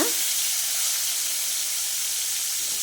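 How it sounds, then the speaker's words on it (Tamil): Marinated shrimp frying in hot oil for a prawn thokku, giving a steady close sizzle and hiss that holds evenly from start to finish with no talking. "இப்போ இந்த இறால்லாம் வந்து எண்ணெயில் வந்து சேர்த்து வறுத்துக்கலாங்க"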